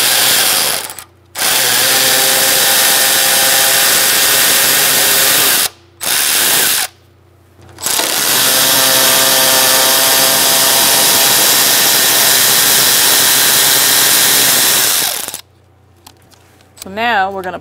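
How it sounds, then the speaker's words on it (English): A power tool runs in long loud bursts, with short pauses between them, as it undoes two 10mm radiator bolts on a 1998-2011 Ford Ranger 3.0L V6 during an AC condenser replacement. "next we're going to use a 10mm again. And we're going to undo our two bolts for the radiator."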